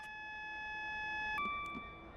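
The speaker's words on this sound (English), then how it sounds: "Acknowledge the alarm." Cab alarm in an HST train in Train Sim World 4 sounds as a steady, faint electronic tone that shifts pitch partway through, followed by a couple of soft clicks.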